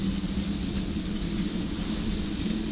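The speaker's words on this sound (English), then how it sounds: "But here comes the rain, so we'll see where that takes us." Rain arrives with wind in a steady, dense hiss and low roar, an unbroken wash of sound at even volume with no voices.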